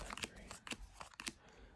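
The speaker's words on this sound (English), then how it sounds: "I'll quickly shuffle these and then deal myself 5 cards to give you a demonstration" Playing cards being shuffled by hand for a Sushi Go demonstration, several quick riffling bursts of crisp flutter at close range, quiet overall with no talking.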